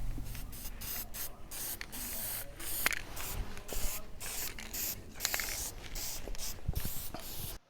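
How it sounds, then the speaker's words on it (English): Rust-converting primer sprayed from a can onto a trailer frame, a close continuous hissing broken by frequent short pauses as the nozzle is released and pressed again. "I have applied one coat of our rust primer, or a primer that converts the rust to something"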